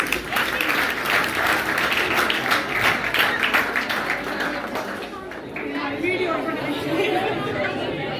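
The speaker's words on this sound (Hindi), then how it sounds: "आइए यशिका मैडम, जोरदार तालियां मैडम।" Students and staff clap at a school Math Day celebration in Hassanpur, steady applause mixed with lively chatter and voices throughout.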